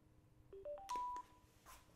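A Sena Tufftalk M headset powers on with a quick rising sequence of short electronic beeps, three or four stepped tones ending on a longer held note, faint and clean against a quiet background.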